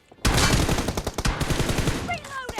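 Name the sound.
gunfire from PUBG Mobile video game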